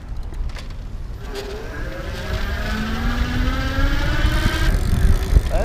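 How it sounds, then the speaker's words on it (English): A 2017 EG Maui 500 EX electric bike motor at power level 5 gives a steady rising whine that climbs in pitch as the bike speeds up, over rumbling road and wind noise, with no talking. "You can hear the motor a little bit more."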